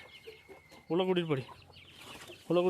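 Chickens and a rooster cluck close by in a farmyard, soft scattered clucks followed by two louder, harmonic bursts of calling.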